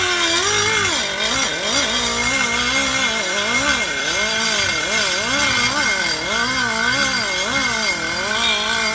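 Rotary burr in a die grinder porting an aluminium LT1/LT4 intake for a 58mm dual throttle body, a loud, continuous high-speed whine whose pitch rises and dips as the burr loads and frees in the metal.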